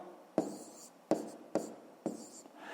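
A pen writes numbers on paper during a long division worked out for a fifth-grade math exercise, four short scratchy strokes in quick succession, close and quiet.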